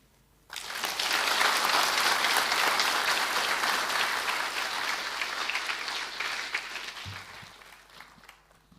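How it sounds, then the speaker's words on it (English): A large crowd at a University of the South Pacific royal visit by the Duke and Duchess of Sussex applauds loudly and steadily for several seconds. The clapping then slowly thins out and fades. "Ladies and gentlemen, please, another round of applause."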